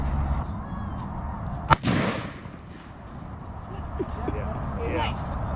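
A single sharp gunshot fired at a metal target outdoors, loud and sudden, followed by a short ringing tail, with people talking around it.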